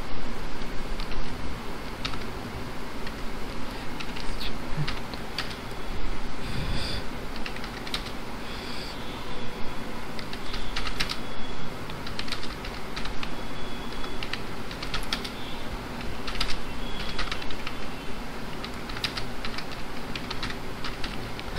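Steady typing on a computer keyboard, close and continuous, with rapid clicking keystrokes running throughout and no talk over it.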